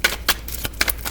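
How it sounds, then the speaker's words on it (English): A deck of cards is shuffled for a missing-person psychic reading, heard as several quick, crisp riffling bursts spaced unevenly over a second, close up, with a low steady hum underneath. "Do I shuffle?"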